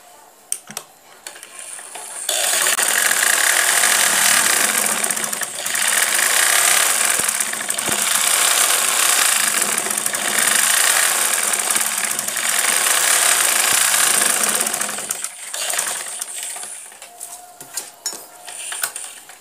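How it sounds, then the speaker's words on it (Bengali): A sewing machine stitches kameez fabric in a steady, loud mechanical whir that runs for about twelve seconds, with a softer start and slowdown at either end and no talking. "এখানে ঠিক একইভাবে আমি আরেকটা সেলাই দিয়ে নিব।"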